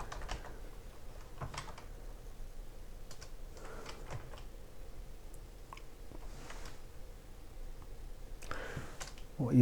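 Keys clatter on a computer keyboard as a web address is typed, a run of soft, close clicks in uneven bursts over a quiet room hum, ending with a slightly louder tap.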